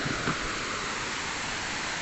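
Steady rain hisses over a waterfall at Corralmo Falls in Calanasan, Apayao, a dense, even wash of water noise filling the whole stretch with no voices.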